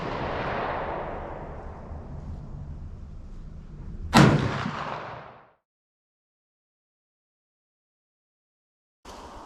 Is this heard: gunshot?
yes